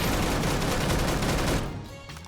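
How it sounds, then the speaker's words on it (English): Rapid automatic gunfire aimed at a turret in the video game Deadside, loud continuous shots that cut off abruptly and leave a quieter tail of scattered sounds, with no talking. "Took several shots at the turret, burned through more healing than I planned, but eventually it went down."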